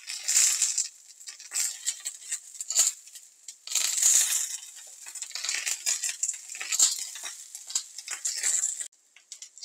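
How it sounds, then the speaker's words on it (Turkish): Peppers roasting in a frying pan beside eggplants give a steady crackling sizzle with bursts of popping spatter, fairly close and continuous, with no talking. "Bu arada bu boş kalan yerlere de biberlerimizi atalım ki biberlerimiz de güzelce"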